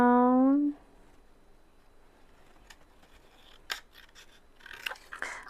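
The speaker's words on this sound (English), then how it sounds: "This should be dry now, so we're going to cut" Scissors cut paper for a junk journal, a few quiet close snips and rustles after a brief loud tone at the start, mostly faint with soft handling noise.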